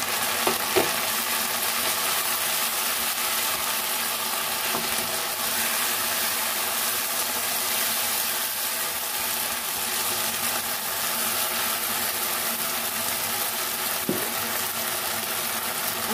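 Drumstick greens fry with onion and garlic in a pan, a steady close sizzle that runs unbroken, with occasional soft knocks from stirring.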